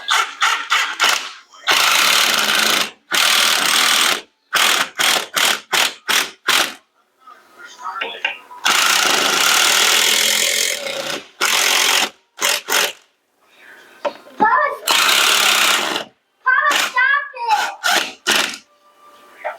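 A cordless power tool drives a 10 mm socket while mounting a wall bracket for a TV, sounding in repeated loud, close whirring bursts of one to two seconds with short pauses, plus a few ratcheting clicks between runs.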